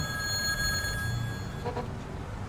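Telephone ringing on a payphone call in a video game, a fairly quiet ring heard alone over low background hum, with a brief burst late in the short clip.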